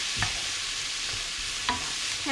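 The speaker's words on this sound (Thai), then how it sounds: "ผัด ผัดให้เขาสลด ผัดให้หอม ผัดกับ น้ำมัน มะกอกค่ะ" Vegetables are stir-fried in olive oil under a continuous hiss of frying, broken by a few soft scraping and knocking strokes from a spatula against the pan.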